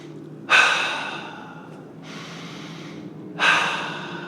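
Slow, deep breathing close to the mic: a sharp inhale, a long exhale, then another sharp inhale, with no talking.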